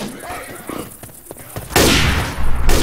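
Gunfire in the zombie shooter Left 4 Dead 2: a few quick shots, then a loud sustained burst of firing over a dense roar of noise, with a voice speaking briefly early on.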